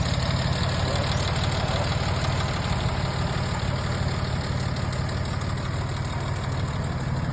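A 1954 Jaguar XK140 Roadster engine idling steadily, a close, continuous low rumble with an even mechanical beat and no voices.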